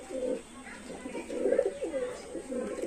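Royal Teddy pigeons, including a young squab, give repeated soft, low cooing calls at close range in a steady rhythm.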